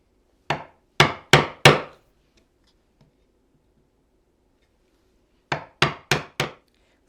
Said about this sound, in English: Now we're ready to cut the mortise for the cutter.